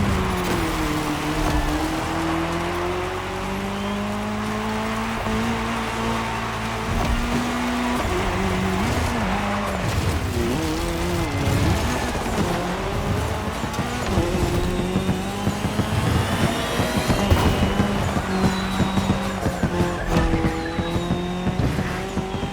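A race car tearing across tarmac in The Crew Motorsport, its engine revving up and down through gear changes while tires squeal and skid through corners, loud and continuous with no talk.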